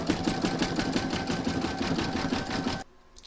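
An embroidery sewing machine stitches an appliqué round in red thread for a large reindeer design, a fast steady needle rattle running loud and continuous before cutting off abruptly near the end.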